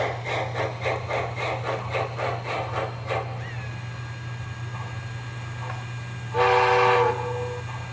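An HO scale USRA 2-8-2 light Mikado model steam locomotive chuffs in a rhythmic sound-system puffing over a steady motor hum, then the chuffing stops and a short whistle blast sounds near the end.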